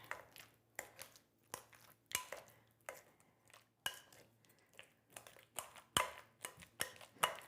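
Ripe bananas mashed in a bowl for banana bread, a fork or masher striking the bowl in regular soft thuds and clinks roughly every half second, close and clear with no talk.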